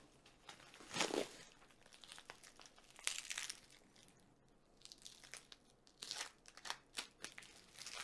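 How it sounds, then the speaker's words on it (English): A blade cutting open aquarium hose, with crinkly, crunchy cutting and snipping sounds in irregular bursts, close and fairly faint, with brief pauses between cuts. "We'll cut it open. We shall cut the hose out."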